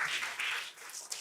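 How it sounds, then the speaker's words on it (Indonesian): A classroom of students clapping together in a short burst of applause, moderately loud and close, with no talk over it. "Oke, tepuk tangan dulu dong."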